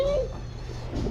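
Domestic cats meowing nearby at a building site, a short drawn-out mew rising over low background hum.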